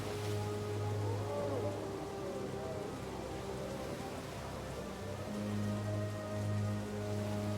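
Steady rain falling in a video game, a constant wash of patter layered with sustained low musical tones and hums that swell and fade, no voices.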